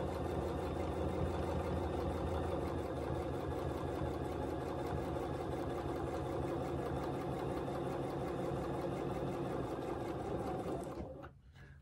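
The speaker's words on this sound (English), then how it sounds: "listen to the rhythm of my machine. As you can see, this machine, this Bernina 790 Pro," A Bernina 790 Pro sewing machine stitches at a steady, rapid rhythm, a fairly quiet, even mechanical hum and clatter that runs for about eleven seconds and then stops abruptly.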